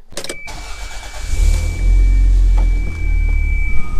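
A car with its top off starting up: a brief crank, then the engine catching and settling into a steady, close idle hum.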